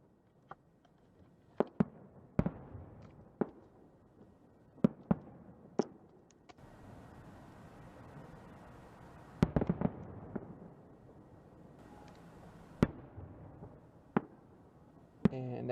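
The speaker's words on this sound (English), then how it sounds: "And take the fireworks off." Fireworks sound effect played during a live baseball and football card break stream, a scattered series of sharp pops and crackling bursts, some clustered together, faint over a quiet background.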